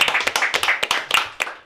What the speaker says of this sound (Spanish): Vamos a otro aplauso fuerte para el muchacho.